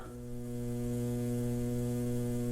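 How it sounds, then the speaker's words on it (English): Motor of an old movie projector recorded as a sound effect, a steady low electrical buzz with strong harmonic hum, continuous and fairly loud across the whole moment. "there was a motor on a projector, a movie projector at USC, which made almost that proper sound of the old Flash Gordon serials"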